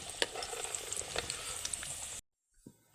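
Eggs fry in hot oil in a wok with a loud, bright, crackling sizzle for about two seconds, then it cuts off into near silence broken by a couple of soft knocks.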